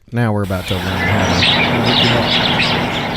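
Birds chirp in scattered high bursts over a steady wash of background noise, after a short stretch of someone talking at the start.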